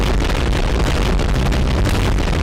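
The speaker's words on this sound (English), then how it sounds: "the noises that the cannon makes are just so loud and annoying" A cannon tower fires in a Scratch Bloons tower defense game, producing loud, harsh, unbroken booming noise that fills the whole stretch without pause.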